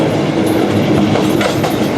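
A freight train in Argentina rolls steadily along its rails, with a continuous loud rumble and rattle of wagons heard from on board, while faint clicks and squeaks ride over the noise for the whole stretch.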